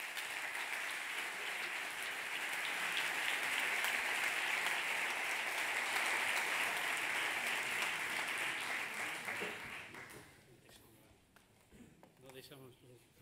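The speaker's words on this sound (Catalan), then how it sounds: "Un aplaudiment per ells," Sustained audience applause at a corporate event with La Caixa foundation speakers, loud and dense for about nine seconds before fading out, with a few scattered claps and murmurs trailing at the end.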